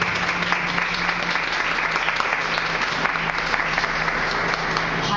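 Sustained applause fills a church service, the crowd clapping loudly and continuously with a faint steady hum underneath and murmured voices mixed in.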